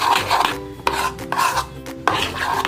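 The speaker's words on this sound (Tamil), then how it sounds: "ரொம்ப நம்மளுக்கு இந்த கட்டி கட்டியாக இல்லாமல் நல்லா இப்போது நீங்கள் மிக்ஸ் பண்ணிக்கோங்க" A spoon scrapes and rasps steadily through a thick milk powder peda mixture in a pan, stirred in continuous strokes with a few brief pauses, close up and without any voices.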